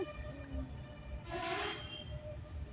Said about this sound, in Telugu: ఇంకా చూడండి ట్రైన్ అయితే వెళ్తూ ఉంది